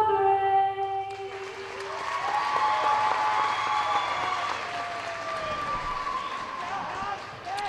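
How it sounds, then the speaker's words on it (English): A large crowd fills a high school basketball gym between Rector and Piggott, with broad applause and murmuring and a loud announcer's voice carrying over the noise. "And a great crowd on hand for tonight's game."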